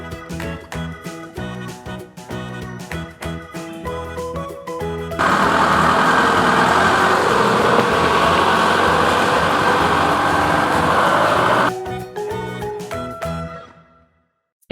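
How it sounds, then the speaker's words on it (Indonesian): A forklift engine runs steadily for several seconds, a loud continuous mechanical rumble set between stretches of background music. "Forklift."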